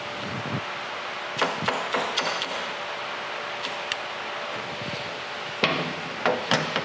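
A hammer taps a punch several times to mark a pin on a Monarch 16-inch lathe headstock, sharp close metallic clicks in small clusters over a quiet hiss.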